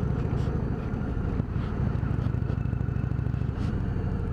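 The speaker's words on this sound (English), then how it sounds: "this is powered by the venerable Thunderstroke 111." Indian Springfield Dark Horse touring motorcycle with a Thunderstroke 111 engine riding along, a steady deep engine rumble under continuous wind buffeting, loud and close throughout.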